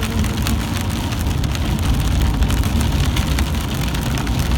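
Steady rain drums on a moving car during a drive, a dense continuous wash of patter over low road and engine rumble, loud and constant throughout with no voices.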